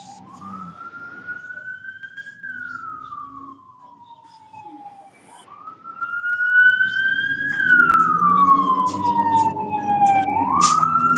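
A wailing police siren sweeps slowly up and down in pitch, growing louder as it approaches, with traffic rumble and faint voices underneath.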